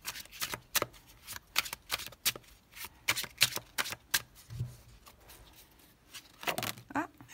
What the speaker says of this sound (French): On va poser 3 cartes pour commencer.